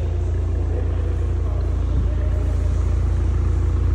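A BMW engine roars through a 3-inch stainless steel full exhaust system in a workshop, a steady loud low rumble held throughout with no letup.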